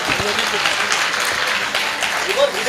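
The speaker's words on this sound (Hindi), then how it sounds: "आप फिर से ताली बजाएंगे।" Audience applause at a Hindi comedy poetry show, a dense wash of clapping that holds steady throughout, loud and close, with talk mixed in underneath.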